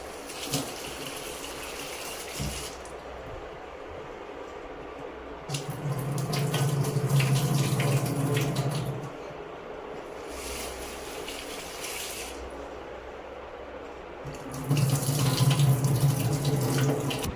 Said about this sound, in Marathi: आता मी तो नळाखाली छानपैकी स्वच्छ धुवून घेते